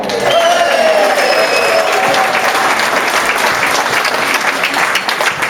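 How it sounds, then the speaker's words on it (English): A large indoor crowd claps and cheers loudly and steadily for a woman turning 80, a continuous wash of applause with voices mixed in. "And I think we should have a cheer for Barbara."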